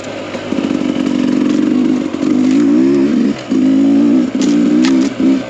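A dirt bike engine fitted with a Smartcarb or Lectron carburetor blips and revs up close and loud, its throttle rising and falling in short bursts with brief drops between pulls.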